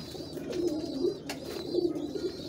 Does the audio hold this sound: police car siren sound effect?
no